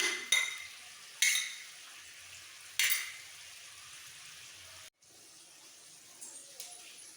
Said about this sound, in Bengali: মশলা বাটাটা তেলের মধ্যে একটু মিক্স করে দিয়ে দেবো